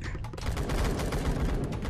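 Rapid bursts of automatic gunfire crackle continuously in a Roblox Blackhawk Rescue Mission 5 firefight at a power plant, dense and loud with overlapping shots and no pause.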